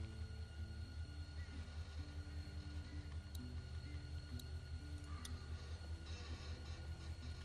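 A train ride in The Walking Dead video game produces a low, steady rumble of rolling wagons with a faint rhythmic clatter. Light metallic ticks are heard, and everything stays quiet and continuous throughout.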